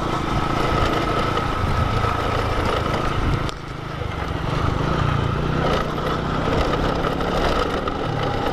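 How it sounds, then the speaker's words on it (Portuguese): A Honda Hornet motorcycle engine runs steadily and loud at close range, a coarse continuous roar with a brief dip partway through before it picks back up, while people talk faintly over it. "E o Hornetão ronca bom, hein?"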